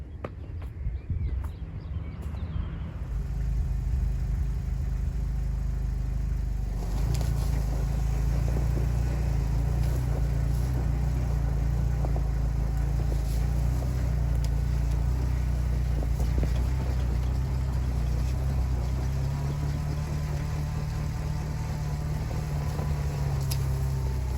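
A Jeep engine idles and revs steadily up close while the vehicle maneuvers in a tight space behind a small red Jeep, a continuous low rumble with no talking over it.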